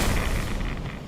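A single gun firing in Fallout 76 during a PvP fight, a short loud booming report with a rumbling tail, close and alone without talk.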